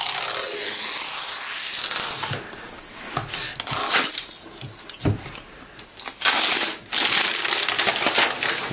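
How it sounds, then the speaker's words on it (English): Plastic wrapper on a new Apple Mac Pro is pulled open by its built-in zipper strip, giving a long crinkly tearing rasp followed by sharp crackles, pops and rustling of the plastic close by. "we have a little zipper here to pull down to release it."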